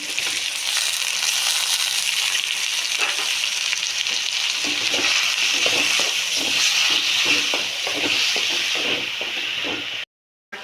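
Green chillies and tomato frying in hot oil for okra gojju, a steady loud sizzle with stirring scrapes pulsing through it, running continuously before cutting off abruptly at the end.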